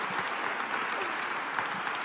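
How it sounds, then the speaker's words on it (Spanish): A crowd applauds Ronaldinho at the MARCA Leyenda award ceremony, a steady dense wash of clapping that holds at an even level throughout without a break. "Otro fuerte aplauso para él, para nuestro Marca Leyenda."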